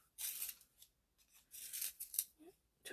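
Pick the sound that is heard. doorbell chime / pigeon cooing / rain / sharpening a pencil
sharpening a pencil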